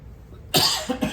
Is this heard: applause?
no